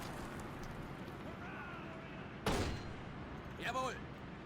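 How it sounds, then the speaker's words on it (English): A mortar fires in the World War II strategy game Men of War: Assault Squad 2, one sharp loud report followed by a fainter blast about a second later, over low battlefield rumble. "Mortar 1 is firing now."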